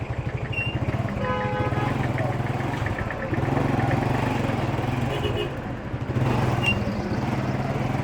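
A motorbike rides through traffic from a fishing harbour, its engine a steady close rumble that rises and dips slightly as it goes, with someone talking over it throughout.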